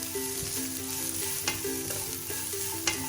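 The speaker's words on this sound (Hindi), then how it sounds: "इनको बहुत लाइट सा हमने फ्राई करना है" Dry fruits frying lightly in a pan for sheer khurma: a continuous close sizzle with rhythmic stirring scrapes and a couple of sharp utensil clinks, without any talking.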